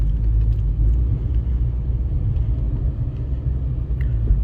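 Deep steady rumble of a 2012 car driving, low engine and road noise filling the cabin continuously and loudly, with faint small clicks above it.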